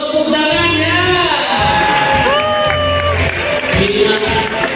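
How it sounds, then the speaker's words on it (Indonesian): An audience at a dolphin show at Taman Safari Bogor cheers and whoops loudly, a busy crowd din with rising tonal shouts throughout, alone and close. "Tepuk tangannya."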